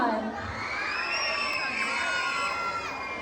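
A crowd cheers and shouts at a Barangay 123, Tondo, Manila beauty pageant national costume segment, with high excited whoops and children's voices in a sustained, loud roar.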